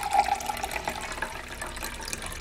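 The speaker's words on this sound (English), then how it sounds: "so we're gonna pour in some water" Room-temperature water pours into a small sea-monkey tank indoors, making a continuous close splashing trickle for a couple of seconds.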